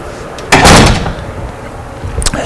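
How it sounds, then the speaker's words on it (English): An indoor door swings shut with one loud, close thud, followed by quiet room tone and a small knock or rattle near the end. "So let me close the door."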